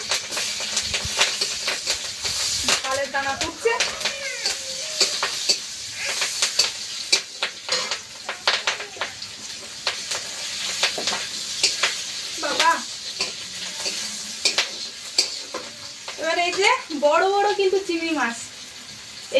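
Onions fry in oil in a pan with a steady hiss and sizzle, broken by scraping stirs and clatter, while a person talks over the cooking for most of the time.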